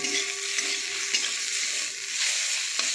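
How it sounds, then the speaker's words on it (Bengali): Okra sizzles steadily in oil in a pan, a close, continuous frying hiss broken by a few brief stirring scrapes. "আমার ভিন্ডি ভাজা হয়ে এসছে, আমি একটুখানি সামান্য লঙ্কার গুঁড়ো দেবো"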